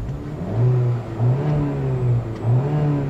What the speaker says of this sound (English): what you're hearing, of course, is the 2-liter turbocharged direct injection engine